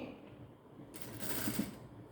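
A sewing machine stitches blouse piping with a small border in one brief, close burst that starts after a moment of near quiet.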